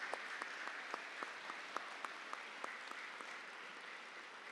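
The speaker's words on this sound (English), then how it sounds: "So please give a big round of applause to Piyush." Audience applause at a leadership lecture, a steady wash of clapping from a seated crowd with a few sharper individual claps standing out, fairly faint and even throughout.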